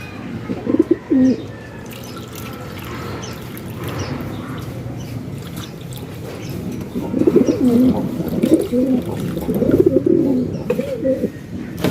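Young pigeons coo softly in a morning loft, low repeated coos that come in clusters and grow fuller toward the end, with a steady murmur underneath.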